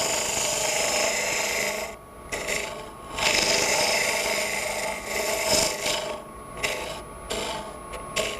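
A lathe tool cuts into the bottom of a natural-edge end-grain wood bowl, a close, steady rasping scrape that drops away briefly a few times before biting in again.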